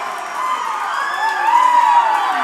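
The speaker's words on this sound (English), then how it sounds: "got the crowd on their feet here at the Panther Den" A crowd in a high school gym cheers steadily at a varsity volleyball match between Robbinsville and Franklin, with sustained shouts and whoops rising slightly toward the end.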